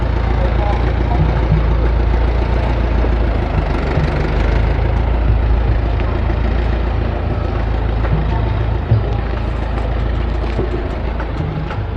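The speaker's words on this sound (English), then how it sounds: "Bloody tractors." A tractor engine idles close by at the Sanctuary of Truth in Pattaya, Thailand, a loud, continuous low rumble with a rough, knocking texture that barely changes.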